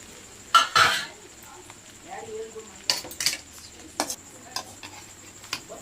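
Gobi egg noodles being mixed in a pan, street style, with a metal utensil: a few sharp clanks and scrapes against the pan come in irregular bursts between quieter stretches.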